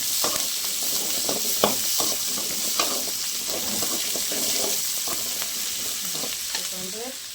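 Coriander seeds, fenugreek, black pepper and cumin dry-roast and rattle in a pan, with steady crackling sizzle and repeated scraping stirs throughout.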